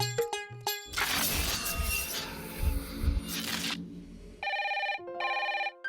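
A telephone ringing in a Hindi TV drama, two electronic ring bursts heard clearly after a loud crash of breaking glass and other noise.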